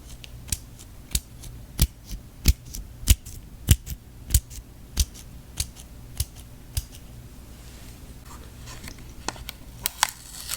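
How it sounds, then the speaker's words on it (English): Strips of scotch tape are pulled off a roll in a quiet room, making a series of sharp, crisp rips spaced about half a second apart. They run for roughly seven seconds, pause, then return as a few more at the end. "I hear the scotch tape."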